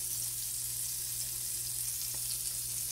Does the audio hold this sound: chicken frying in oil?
yes